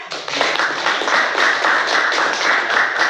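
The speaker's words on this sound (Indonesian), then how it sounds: "Kita beri tepuk tangan." A classroom of students claps for a student group that has finished building its electrical circuit, a dense steady patter of many hands lasting throughout at close range.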